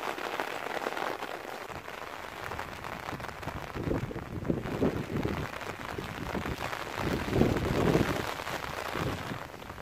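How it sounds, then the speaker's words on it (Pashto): Heavy rain pours down in a dense, continuous roar that is loud and close, with pattering on surfaces and some wind buffeting the microphone, and no voices. "دیر زیاد باران دی"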